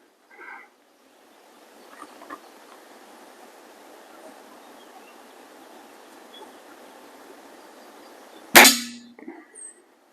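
A vintage Walther LG55 air rifle fires a single sharp, loud shot near the end with a brief metallic ring, after a long stretch of quiet background hiss.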